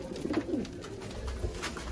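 Soft, low coos from a flock of about 55 pigeons rising out of a busy, noisy background, a few burbling calls close together near the start.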